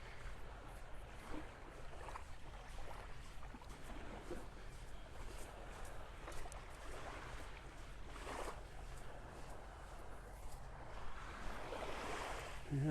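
Gentle surf on Vanderbilt Beach in North Naples, Florida at sunrise: a faint, steady wash of small waves with soft wind noise, distant and continuous with no voices.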